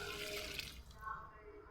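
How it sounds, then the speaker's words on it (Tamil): Water is poured onto a potted plant, making a quiet, steady splashing trickle that fades toward the end. "அந்த செடியை இப்போ நம்ம தண்ணி ஊற்றிடலாம்"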